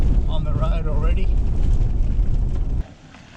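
A vehicle fords Settlement Creek on a corrugated outback road with a loud, steady rumble and churning water noise up close, then drops abruptly to a quieter hum near the end.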